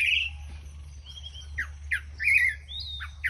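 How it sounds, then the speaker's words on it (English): Birds chirp and sing outdoors in the morning near a cob house in nature, with several bright, separate calls and squawks over a steady low rumble of background noise. "The beautiful thing is that in the morning is that we have our own concert of birds."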